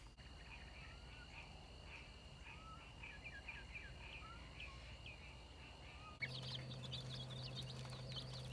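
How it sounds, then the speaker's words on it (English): Small chicks and ducklings peep softly and repeatedly at a Texas market garden, faint and close, with a louder shift in the background noise near the end. "Hi, little chickies and ducklings."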